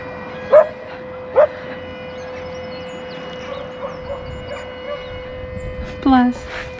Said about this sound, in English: Oh, listen, his dog's singing.